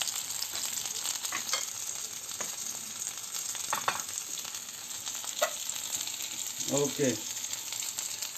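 Kebabs frying in a pan give a steady, fairly loud sizzle with occasional clinks and scrapes, and a voice speaks briefly over it.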